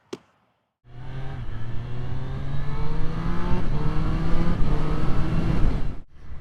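Triumph Street Triple 765 RS motorcycle being ridden, its engine note rising steadily through the gears with wind rush, loud and close, after a short click and a pause of silence, then cutting off abruptly.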